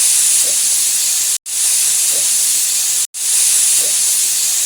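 A kitchen pressure cooker cooking beef lets out loud, sustained bursts of hissing steam, three long hisses separated by two short gaps, with no talking.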